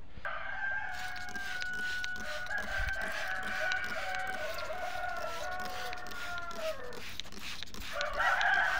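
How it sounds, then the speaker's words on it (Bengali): Layer hens and a crowing rooster on a poultry farm in winter, Thakurgaon, with steady overlapping clucks and calls filling the barn, loud and continuous, the crowing drawn out across several seconds. "চলুন আমাদের লেয়ার মুরগিটা দেখি কি অবস্থা"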